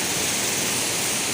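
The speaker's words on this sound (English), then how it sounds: "Down the shade of the tree. And have the view of the waterfall." A natural waterfall heard close up as a dense, continuous rushing roar of falling water, loud and steady throughout with no other sounds and no talking.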